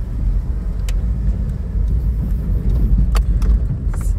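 A car engine rumbles steadily close by as the vehicle pulls away, with a low continuous drone and a few faint clicks and rattles, and no talk over it.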